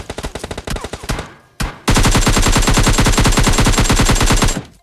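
Gunfire in PUBG Lite: a few bursts of shots break off, then a loud sustained automatic stream of rapid, evenly spaced shots rings out close up and stops abruptly.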